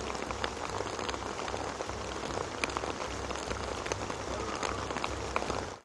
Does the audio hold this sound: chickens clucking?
no